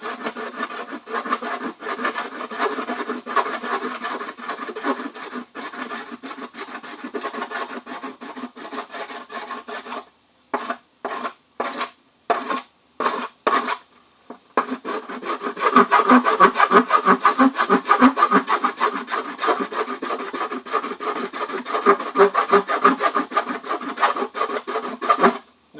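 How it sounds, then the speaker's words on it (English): Half-round hand file smoothing cut edges of ABS plastic, a dry rhythmic rasping of quick back-and-forth strokes, briefly broken into a few separate strokes midway before resuming steadily, close and alone. "This stuff being ABS, it responds to a file much better than to a sanding disc"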